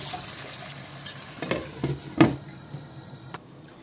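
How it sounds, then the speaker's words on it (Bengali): Meat simmers covered in a pan with a little water, giving a low, steady background sizzle, broken by a few sharp clinks and scrapes of utensils against the cookware. "মাংসটাকে একটু রান্না করে নিতে হবে, আর আমি এটাকে ঢেকে রান্না করে নেব।"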